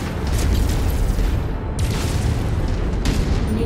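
Missile explosions in MechWarrior 5: a loud, continuous low rumble of blasts with a few heavier booms rising out of it, close and without speech.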